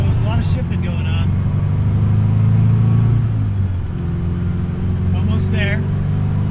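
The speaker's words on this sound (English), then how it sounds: "5-speed transmission, still geared kind of short, so there's a lot of shifting going on." A 1963 Alfa Romeo Giulia driving with its short-geared 5-speed manual, a steady engine drone that drops in pitch mid-way as a gear change comes, with someone talking over it.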